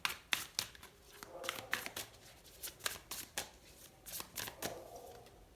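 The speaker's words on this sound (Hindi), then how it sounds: "एक और कार्ड निकाल के देखते हैं हम यहाँ पे।" Tarot cards are shuffled and drawn by hand in a string of quick crisp riffs and flicks, with soft slides and taps between bursts, close up and fairly quiet.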